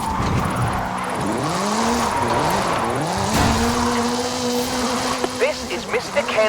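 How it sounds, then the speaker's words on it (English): A turbocharged 2-litre, all-wheel-drive Ford Focus RS RX gymkhana rally car in Forza Horizon 5, engine revving up and down in repeated sweeping surges with bursts of tire noise, loud and near, with a voice talking over it. "Kenneth Block's Hoonigan Gymkhana 10 Ford Focus RS RX. 2-litre, turbocharged, front-mounted engine and all-wheel drive."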